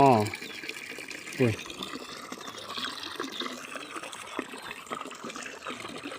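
Water pours steadily from a 400W solar-powered pump run off a 250W solar panel, a continuous close gushing flow, with brief voices at the start and around one and a half seconds in.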